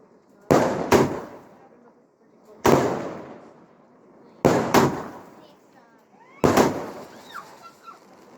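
Large fireworks at a UK bonfire night display, including a big rocket, burst with loud booming bangs about every two seconds, some as quick double cracks, each trailing off with crackle and a faint whistle.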